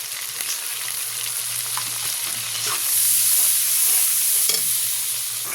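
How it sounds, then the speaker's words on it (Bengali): Garlic paste and turmeric fry in oil while being stirred, a continuous close hiss and sizzle with soft scraping strokes that swells louder midway, no voices. "এখানে একটু রসুন বাটা দিয়ে দেবো, একটু রসুন চাপটা বেশি দেবো, একটু নেড়ে নিলাম।"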